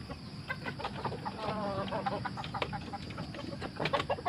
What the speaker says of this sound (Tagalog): Pakain muna tayo ng manok.